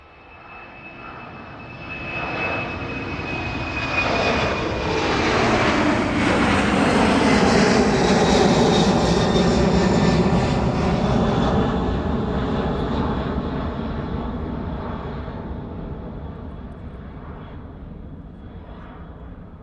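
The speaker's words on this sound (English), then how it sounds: "there it goes, making its way out of East Midlands Airport this afternoon, the DHL 767 off to Leipzig" A DHL Boeing 767 jet takes off from East Midlands Airport, its engine roar swelling from a distance to a loud, broad peak and then slowly fading with a shifting, whooshing tone as it passes.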